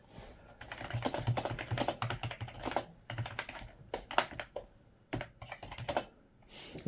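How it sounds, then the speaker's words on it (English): Typing on a stiff computer keyboard whose keys have heavy resistance and need hard presses; close, irregular bursts of clacking keystrokes with short pauses, no voices. "let's just see what typing is like"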